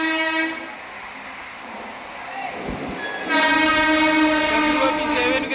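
An Amrit Bharat train sounds its horn while rushing past at speed, loud sustained blasts over rumbling wheels, the tone rising as it draws near.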